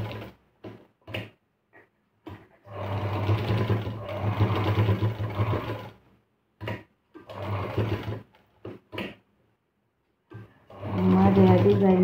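A domestic sewing machine stitches a blouse sleeve in several bursts of fast, steady mechanical whirring, close up, separated by quiet gaps and a few small clicks.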